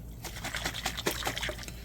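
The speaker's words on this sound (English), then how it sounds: "So put your little water in and shake it up." Water and flour shaken hard in a closed container to break up lumps, a steady close sloshing rattle lasting a couple of seconds with no pause.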